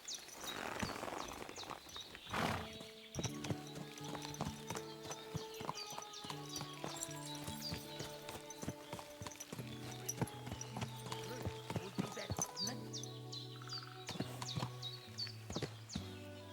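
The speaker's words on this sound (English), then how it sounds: "Oh, there's my horse, okay." Horse hooves clip-clop in Kingdom Come Deliverance 2, steady close hoofbeats over a soft game music score with occasional bird chirps, alone without talk.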